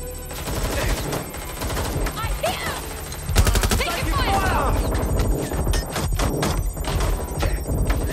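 Watch Dogs: Legion gunfire, with bursts of shots, sharp cracks and impacts scattered over a busy game soundscape with music and voices, loudest around the middle.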